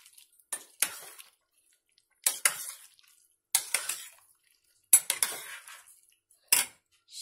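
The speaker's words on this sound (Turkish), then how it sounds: "Karıştıralım güzel." A spoon scrapes and clinks against a metal pot while thick aşure with added chickpeas is stirred, in short clattering bursts separated by brief pauses, close and fairly quiet.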